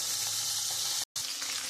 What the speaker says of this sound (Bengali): আমি মাছগুলো একটু লাল লাল করে ভেজে তুলে নেব।